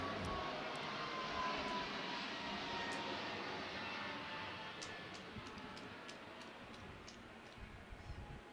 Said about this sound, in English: And the plane coming in.